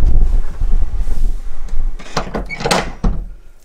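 A bathroom door inside a Morelo Loft 79LX luxury motorhome slides and shuts with a run of close knocks and a firm thud near the end, in a quiet interior with no talk.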